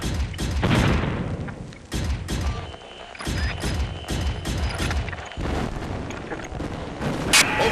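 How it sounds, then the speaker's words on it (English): Gunfire and explosions from the Zoids Assault video game on Xbox 360: a dense, continuous barrage of loud booms, thuds and rapid shots, with heavy bursts repeating every second or so and no pause throughout. "We're getting shot up here!"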